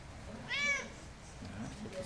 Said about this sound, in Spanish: Cuando tiene hambre, él dice miau.